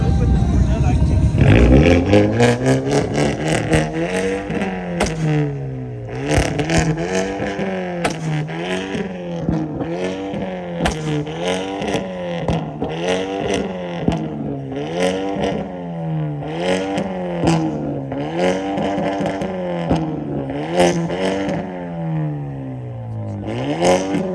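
A car driving hard on a race track in Korea, its engine loud and close, rising and falling in steady rev sweeps through repeated gear changes and corners, continuous for the whole stretch.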